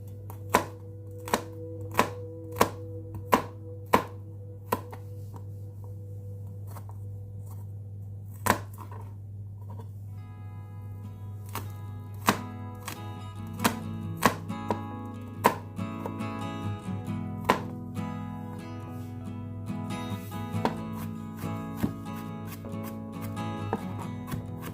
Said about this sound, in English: I'm gonna be cutting these up very small, mincing them up very small